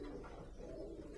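Racing pigeons coo steadily in a loft, a low continuous burble heard close up with no talking.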